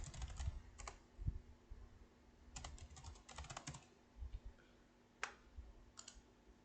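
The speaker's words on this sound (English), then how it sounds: "then you just type." Quiet typing on a computer keyboard, irregular bursts of soft key clicks with short pauses between them, close and alone.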